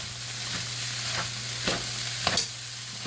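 Fried rice with oil, peas and corn being stirred in a pan, a low steady sizzle with a few brief scraping clatters of the utensil against the pan, close and fairly quiet, no talking.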